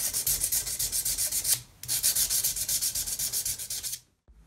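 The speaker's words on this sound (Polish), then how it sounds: "najprościej jest owinąć gumkę papierem ściernym i w taki sam sposób polerować progi" Guitar frets being sanded with sandpaper wrapped around an eraser, a close, steady back-and-forth rubbing in quick regular strokes with a brief pause midway before it stops.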